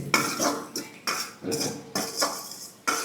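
A metal spoon stirs and scrapes a ginger and onion mixture in a pan for veg Manchurian, with rhythmic close scraping strokes and clinks about every half second and no voice.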